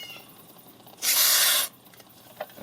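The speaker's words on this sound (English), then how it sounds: "What I have right here is electronic cleaner, contact cleaner. So I'm just going to spray it through here." Electronic contact cleaner sprayed into an air conditioner's contactor makes a single loud, sharp hiss lasting about half a second over a quiet background, followed by faint clicks.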